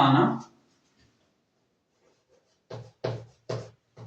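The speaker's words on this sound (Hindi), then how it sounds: "तो चलिए इसको लिखते हैं यहाँ पे" Chalk or marker strokes on a classroom board during a physics lesson on resistors in parallel: a longer scrawl at the start, then a quiet gap and four short, even strokes in quick succession, close and fairly clear with no talk.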